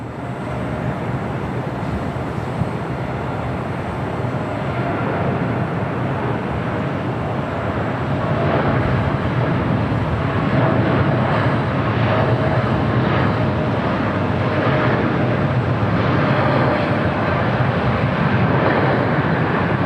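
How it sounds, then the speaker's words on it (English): An Aeromexico Boeing 787-8 Dreamliner takes off at LAX on a flight to Mexico City. A broad, loud jet roar holds steady and swells slightly toward the end, heard from a distance and with no talk. "Next takeoff is at Aeromexico. 787-8 Dreamliner heading to Mexico City, flight 647"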